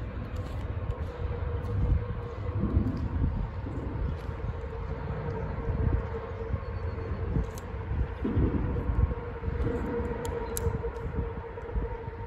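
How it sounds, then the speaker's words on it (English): A CSX Q007 freight train rumbles past at a steady low roar, with a sustained whistle-like tone running through, and no talk over it. "Q007, shortest train on CSX to date."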